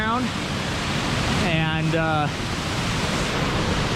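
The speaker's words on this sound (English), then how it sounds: "If you guys want some of this waterfall action, yeah, you can come here." A waterfall at Glenwood Springs roars as a constant, loud broadband rush of falling water filling the whole clip, with a voice briefly speaking over it.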